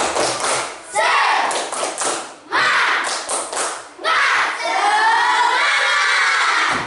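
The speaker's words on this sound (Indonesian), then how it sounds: "Oke, semuanya tepuk semangat." A classroom of students claps a rhythmic spirit clap in several loud, tight bursts, with voices shouting along between and over the claps.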